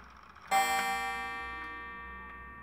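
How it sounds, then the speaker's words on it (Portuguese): An antique clock strikes a single half-hour chime, one bright resonant stroke that rings out and slowly decays, heard alone in a quiet room. "quando chega na meia hora, ele dá uma badalada."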